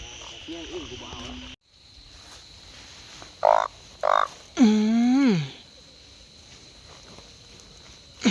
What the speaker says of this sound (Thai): ก็ได้กบตัวแรกเนาะตัวพักใหญ่หนึ่ง